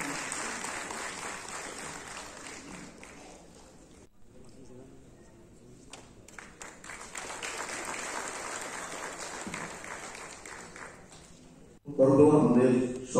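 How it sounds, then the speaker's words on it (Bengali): An audience claps steadily at a district workshop of a Dr. B. R. Ambedkar honour campaign, a sustained wash of applause that dips midway and then swells loudly near the end, with a voice partly over it. "বরণ করে নেওয়ার জন্য আপনাদের করতালির মাধ্যমে"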